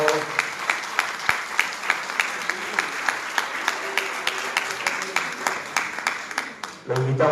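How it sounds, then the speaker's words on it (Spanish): Sustained audience applause at a school cooperative associations congress in Buenos Aires greeting a delegate, steady dense clapping with sharper individual claps throughout, fading out near the end. "Le damos un fuerte aplauso a Gustavo"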